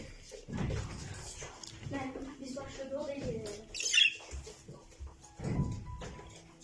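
A pet budgerigar gives a few short, bright chirps, including one sharp squawk, all mixed in and under close speech from people talking nearby.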